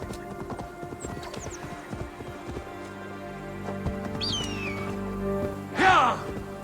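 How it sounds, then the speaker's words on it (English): Rhythmic hoofbeats of a horse being ridden over rough, fenced terrain in a Viking-themed video game, steady clip-clop with a whinny near the end and faint chirps in the background. "it's not friendliest terrain for riding horses"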